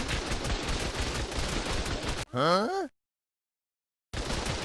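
An NPC tribe fires guns in the ARK video game: rapid, dense gunfire bursts, then a short rising voice-like tone, a moment of complete silence, and the shooting resumes.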